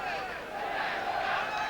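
French crowd at a 1990 France versus Australia rugby test, a sustained chanting roar from the stands, dense and steady throughout with rising swells, no clear individual voices.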